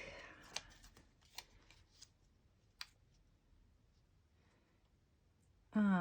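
Scissors cutting paper for a Happy Planner weekly wellness layout: a few sparse, crisp snips spaced a second or so apart in a quiet room, then a sudden loud burst at the very end.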